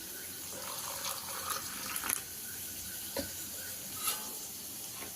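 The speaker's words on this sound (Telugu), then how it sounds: "ఇలా వచ్చినప్పుడు మనకి ఇందులో కొంచెం వాటర్ వేసుకుందాం." Water pours into a mixer jar holding ground spice powder for a capsicum masala curry, a steady close trickle with a few faint clinks, no voices.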